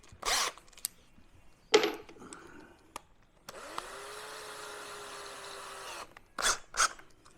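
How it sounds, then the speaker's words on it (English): A small bit drills pilot holes in the bathroom floor of a Forbes 13. Brief clunks come first, then one steady, fairly loud whine of about two and a half seconds, followed by more handling knocks. "let's just take a small drill bit and drill some pilot holes."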